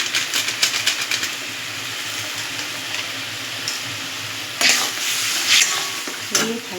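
Ground cumin and turmeric stir-fried in a pan for egg curry, giving a steady sizzle with repeated scraping stirs that grow louder and busier in short bursts toward the end.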